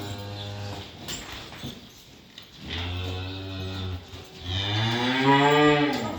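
A calf moos over and over before a Kurban Bayramı slaughter, with several long, loud, harmonic bellows separated by short pauses and faint background noise.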